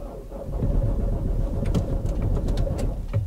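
Vauxhall Antara engine turning over and settling into a steady idle, a loud close rumble with low-fuel and engine warning chimes beeping intermittently over it.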